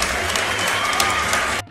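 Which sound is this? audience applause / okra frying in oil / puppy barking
audience applause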